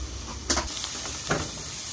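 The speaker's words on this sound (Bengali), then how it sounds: "সব দিয়ে ভালো করে নাড়িয়ে চাড়িয়ে নিচ্ছে" Lightly browned onions with salt, turmeric and a little jaggery stirred in a pan, with a steady sizzle and two brief scraping strokes of the spoon, close and moderately loud.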